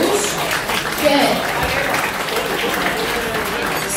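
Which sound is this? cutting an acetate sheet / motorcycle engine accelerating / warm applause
warm applause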